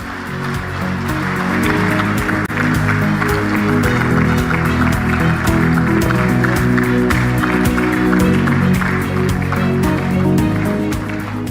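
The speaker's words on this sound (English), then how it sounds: "Ladies and gentlemen, another big round of applause to our host" Loud, sustained applause from a large audience at the Mission 300 Africa Energy Summit, dense rhythmic clapping that swells and holds steady throughout.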